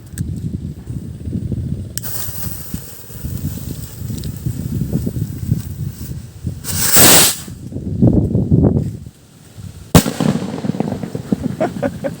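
A small-caliber 100-shot firework cake, homemade in Mindanao, crackles and pops in bursts with hissing launches and a few sharp louder bangs, close by and loud.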